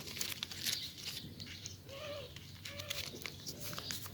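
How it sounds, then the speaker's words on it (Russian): Paper surprise packet being opened by hand, with soft crinkling and rustling of paper over about four seconds, close and fairly quiet, with no talking. "И откроем наш пакетик."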